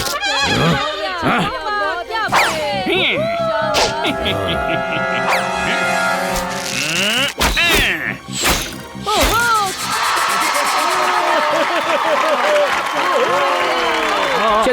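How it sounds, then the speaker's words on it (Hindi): Applause and clapping from a cartoon crowd, dense and continuous for most of the stretch, mixed with bright cartoon sound effects and tonal jingles, with a few sharp hits partway through. "सभी शेर सुने बिना ताली ठोक रहे हैं।"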